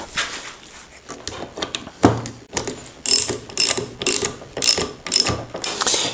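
Wrench ratcheting while tightening the steering bar on a Vespa P200 E scooter, a close, loud series of sharp metallic clicking bursts in quick, uneven rhythm, growing more regular toward the end.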